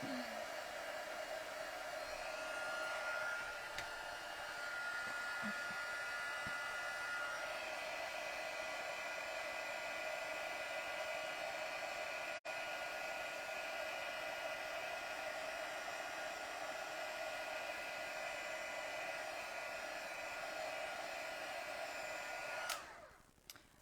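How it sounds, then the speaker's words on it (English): A heat tool blows steadily for over twenty seconds to heat-set a stamped image made with an eyeshadow emboss technique, a constant close whirring hum that cuts off at the end. "So I'm just going to heat set that."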